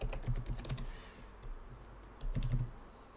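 Typing on a computer keyboard: quiet, close, rapid key clicks in two short bursts separated by a brief pause, alone without talk.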